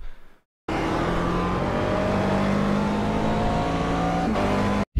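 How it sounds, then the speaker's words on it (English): A race car engine roars at full throttle, holding a loud, steady drone that climbs gradually in pitch, starting abruptly after a short silence and cutting off sharply near the end. "at this point I start to accelerate full throttle directly"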